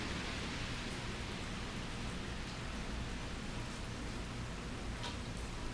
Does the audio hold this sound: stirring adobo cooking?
no